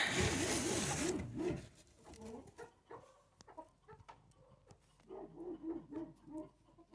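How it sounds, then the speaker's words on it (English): Chicken inside a wooden coop, giving soft, irregular clucks and short murmurs after a brief burst of rustling noise at the start, fairly close and quiet with gaps between calls. "there is a chicken in there"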